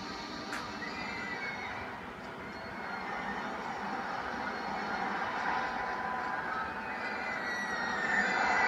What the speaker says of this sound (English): That freaking train hauls ass through there.